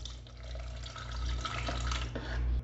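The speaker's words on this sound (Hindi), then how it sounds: "हाफ कप इसमें वार्म वाटर डालेंगे" Half a cup of warm water is poured steadily over instant yeast, sugar and salt in a bowl for Turkish pide dough, giving a soft continuous trickle and splash with a low hum underneath.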